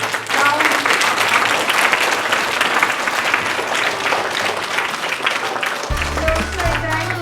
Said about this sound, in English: Please clap for yourself. Loudly.